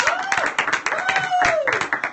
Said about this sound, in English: A round of applause, please, for David Garrett!